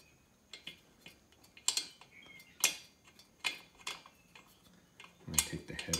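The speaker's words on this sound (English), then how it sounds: "Take this bolt out." A bolt being loosened and pulled from a Kawasaki FR691v engine during teardown gives a run of sharp metallic ticks and clinks, close and moderately loud, with a few louder knocks and a short clattering burst near the end.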